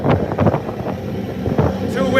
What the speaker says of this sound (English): Too windy here, oh my gosh